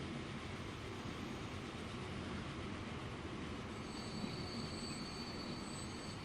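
Train rolling steadily in the Transport Fever simulation game, a continuous rumbling clatter of rail wagons with a thin high wheel squeal rising near the end, no voices.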